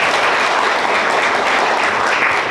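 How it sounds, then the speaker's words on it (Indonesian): Sustained crowd applause at a university Christmas gathering, a thick even wash of clapping that stays loud for the whole stretch without any speech. "Tepuk tangan"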